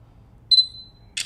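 Front camera shutter on a Sony Xperia C5 Ultra smartphone: a thin electronic beep, then a short crisp synthetic click after a noticeable delay, close and clean in a quiet room.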